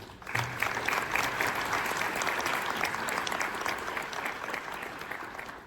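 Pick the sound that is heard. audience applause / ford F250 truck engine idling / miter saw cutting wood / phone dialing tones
audience applause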